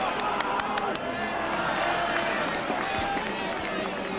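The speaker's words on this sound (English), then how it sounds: "The crowd is trying to will on Pontypridd in song." A rugby crowd at Pontypridd's home ground sings with a band joining in, a dense, steady roar of many voices filling the whole span with scattered shouts.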